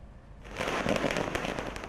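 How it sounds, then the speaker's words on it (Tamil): Strings of firecrackers bursting at a street celebration in front of a bus station, starting after a quiet moment and then crackling rapidly and densely, loud and close, with no talk. "அதிமுக தொண்டர்கள் பட்டாசுகள் வெடித்தும்"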